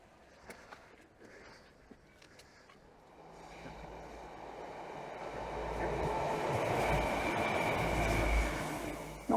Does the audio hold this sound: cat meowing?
no